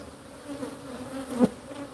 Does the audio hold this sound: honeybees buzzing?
yes